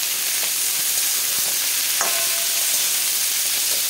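Potato, papaya and beans fry in a pan with oil, giving a continuous close sizzle with brief stirring scrapes and a clink partway through.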